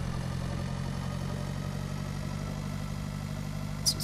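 A tractor engine idles in the Pure Farming 2018 video game, a steady low drone that stays even and constant throughout, with only a tiny click near the end.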